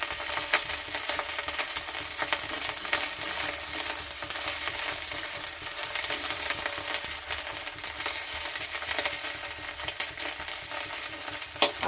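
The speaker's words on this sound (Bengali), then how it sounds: "আদা রসুন পেঁয়াজ একসাথে ভাজা হচ্ছে" Ginger, garlic and onion fry together in a pan for a green jackfruit curry, giving a steady, continuous sizzle with scraping stirs throughout.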